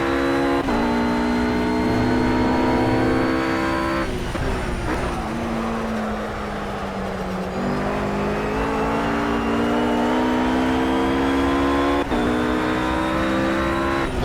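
A RUF GT3 race car's engine roars loud and continuous in the Project CARS racing game at the Catalunya circuit, its pitch climbing through the revs with a few sharp gear-change dips.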